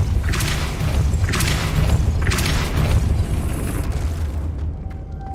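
Depulso spell cast in the Hogwarts Legacy video game, a run of loud booming bursts in steady rhythm, three or four heavy blasts before the sound cuts away to near silence.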